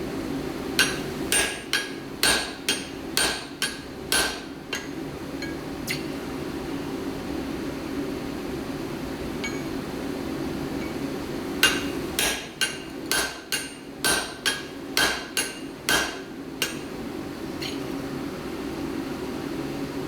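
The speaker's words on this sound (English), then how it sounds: "I'm going to push that hammer a touch." A hammer drives a punch through hot metal, aiming to punch all the holes in one heat. Two bursts of sharp, ringing strikes come in quick rhythmic runs, separated by a pause filled with a low workshop hum.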